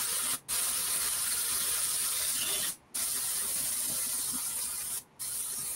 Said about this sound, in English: I'm gonna use some water from the faucet too.